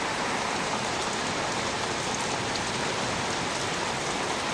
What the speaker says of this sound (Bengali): মানে বৃষ্টি হইতেছে, বাতাসও হইতেছে